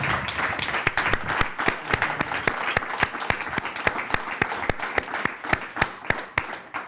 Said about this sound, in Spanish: Un fuerte aplauso para Ana,